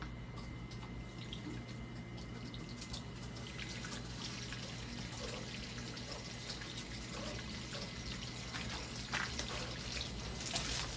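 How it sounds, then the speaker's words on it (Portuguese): Water from a garden hose rinses a garden table, a continuous splashing trickle with light drips that holds steady for the whole stretch, moderately quiet and alone. "Agora é só enxaguar a nossa mesinha de jardim."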